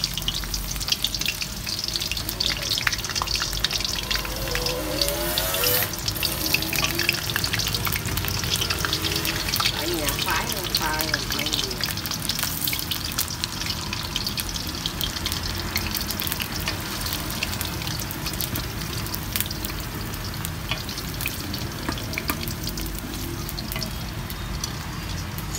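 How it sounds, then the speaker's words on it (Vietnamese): Sweet potato frying in oil makes a loud, dense, continuous sizzle that stays close and steady throughout, with occasional stirring and faint talk in the background. "Khoai lang mình đem đi chiên với mai môn đem chiên."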